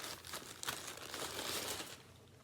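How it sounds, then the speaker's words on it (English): A torn delivery package being ripped open gives quiet crinkling and tearing of packaging, close but faint, in a short rustling burst that fades out. "This will help me rip it open."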